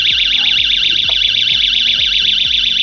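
A motorcycle vibration alarm wails continuously at high pitch in a rapid warbling siren pattern, loud and close, with a steady low pulsing thump underneath and no talking.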